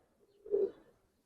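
A female Giribaz pigeon gives a single short, soft coo near the middle of an otherwise quiet moment, faint and close by.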